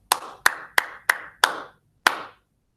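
Children clap a rhythm during a second-grade music lesson: six sharp, close claps in an uneven pattern, the first five evenly spaced and the last after a longer pause, with no talking over them.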